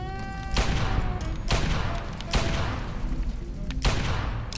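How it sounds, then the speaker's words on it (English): Gunfire in the Fallout: Tale of Two Wastelands video game: four loud, sharp shots at uneven intervals, each with a booming, reverberant tail, over a faint tonal background. "I can hit them hip firing, but not aiming down the sights."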